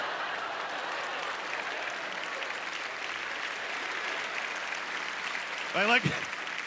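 Comedy club audience at a festival stand-up show applauding steadily throughout, a dense, continuous wash of clapping with a brief louder burst near the end.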